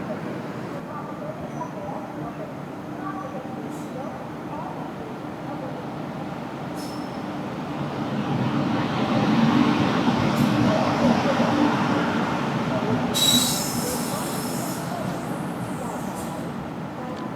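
A Lokmanya Tilak Terminus Express passing on the Konkan line, heard from a common coach of a stopped train: a steady rumbling roll that swells in the middle, with a brief metallic screech near the end and no talk.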